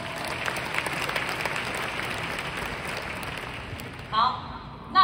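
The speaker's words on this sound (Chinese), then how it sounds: "我们给绿威一个制度一个掌声" A crowd at a leadership training meeting in a Malaysian convention hall applauds loudly and steadily, the clapping continuing throughout with a couple of short voice bursts near the end.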